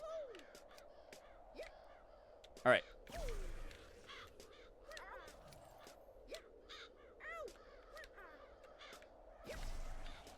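Several crows caw in scattered, repeated calls outdoors, some close and sharp, others fainter and farther off, spaced irregularly across the stretch, with a person's voice briefly speaking in between.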